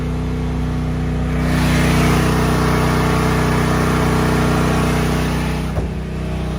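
Duromax generator running on natural gas, a loud steady close-up engine drone with a strong low hum that swells slightly before falling off near the end.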